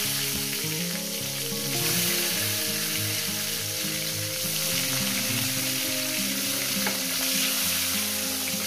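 Tomatoes frying in hot oil with bay leaf and whole cumin, a loud, steady sizzle close up with occasional stirring scrapes throughout.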